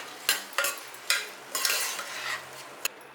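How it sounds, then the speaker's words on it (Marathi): Washed rice sautéed in oil for matar pulao, stirred in a pan: a soft, steady sizzle broken by repeated scraping strokes of a utensil against the pan, close and moderately loud. "हे तांदूळ चांगलं परतून घ्यायचं"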